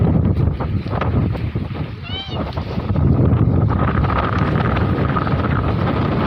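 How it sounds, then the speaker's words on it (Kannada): Cool wind blows across the KRS backwaters near Mysore, buffeting the microphone with a loud, rough rumble that swells after a few seconds, while a voice is faintly heard beneath it. "ತಂಪು ಗಾಳಿ ಬೀಸೈತೆ. ಗಾಳಿ ನೀರು ಹೆಚ್ಚಾಗಿ ನಮ್ಗೆ ಹೊಡಿತದಲ್ಲ."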